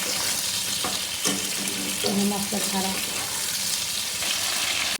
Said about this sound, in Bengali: তো এদিকে পটলগুলো ভেজে নিই, ভেজে তুলে রাখবো